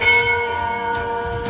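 Metal bells hanging in a gallery at the Golu Devta temple in Champawat ring with sustained, overlapping tones, with a few fresh strikes adding bright accents over a steady, fairly loud shimmer and no voices.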